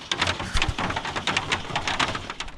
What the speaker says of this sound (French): Ah mais il pleut.